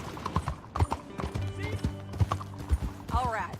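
Horse hooves clip-clop in a quick trotting rhythm in the video game Red Dead Redemption 2, with a horse whinnying near the end and voices talking over the hoofbeats.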